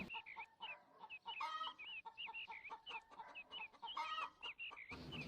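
Cartoon farm chickens cluck in quick, bright, repeated bursts, several calls overlapping close by with no speech.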